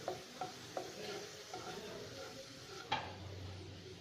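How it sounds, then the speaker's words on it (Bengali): Sugar caramelising in hot oil in a pan while cooking mutton kosha, a steady sizzle with a few sharp stirring scrapes and clinks, close and alone with no talking. "চিনিটা ক্যারামেল করে নিচ্ছি তেলের সাথে।"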